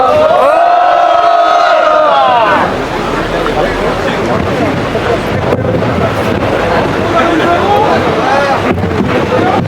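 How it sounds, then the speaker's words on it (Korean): A crowd at a candlelight rally in Jecheon against rail privatization lets out a loud, sustained roar of cheering and shouting after an announcer's voice, the noise continuing steadily with a windy, rough edge. "큰 함성으로 맞아주시면 고맙겠습니다."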